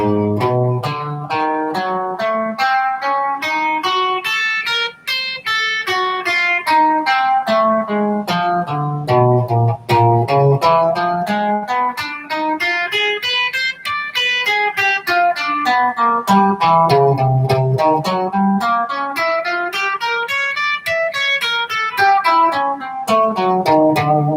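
A fast, continuous run of plucked guitar notes climbing and falling in repeating patterns, played steadily and evenly with no pauses, close and clear.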